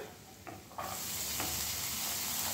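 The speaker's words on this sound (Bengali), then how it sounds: "ফুলকপি আর বিনস এগুলো প্রথমে কড়াইতে দিয়ে দেব" Chopped carrot, cauliflower and beans hit a hot kadai and break into a loud, steady sizzle, with a brief stir of the pan just before the frying starts.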